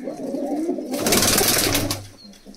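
Low, rolling cooing from a prize-winning Gaida racing pigeon, close by and alone, with a burst of wing flapping partway through.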